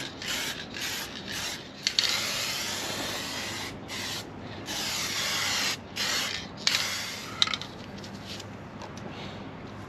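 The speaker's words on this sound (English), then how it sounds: "I'm going to simply go over it with a bit of clear lacquer." Clear lacquer sprayed from an aerosol can over a dried base coat, heard as several close hissing bursts of varying length separated by short pauses, with no talk.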